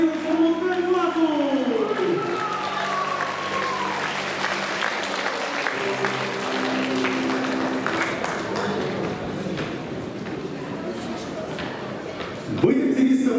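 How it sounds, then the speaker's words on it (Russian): Applause and cheering ring out for graduating 11th grade classes at a last-bell school ceremony, steady crowd clapping throughout with a voice speaking over the start and a loud burst near the end. "Аплодисменты 11 классу!"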